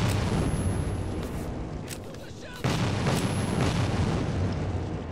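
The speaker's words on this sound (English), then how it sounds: "Oh, those are explosions for days." Heavy booming explosions in the video game Metro 2033 rumble continuously, loud and dense, with a sharp burst midway, like intense game combat.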